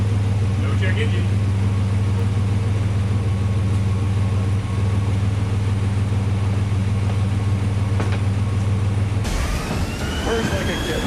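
A high school sport truck's engine idles with a steady low rumble throughout, then cuts to a different sound near the end.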